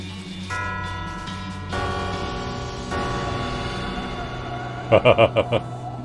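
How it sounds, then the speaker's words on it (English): Bells ringing in the video game West of Loathing, sustained tonal chimes layered over a droning musical background, ending in a quick series of five bright rhythmic strikes, with no talking. "The eerie sound of the bell fades away."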